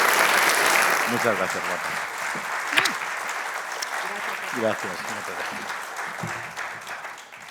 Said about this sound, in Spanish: el aplauso es merecido para ella